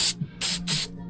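Three short bursts of aerosol spray hiss onto a glued part during a Corvette vacuum tank repair, close and loud with brief gaps between them.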